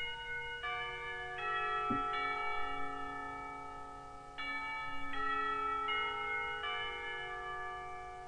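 A school bell rings in the visual novel Katawa Shoujo, a bright sustained multi-tone chime with stacked ringing overtones that sounds in several overlapping strikes, fairly loud and steady over about eight seconds with no talking.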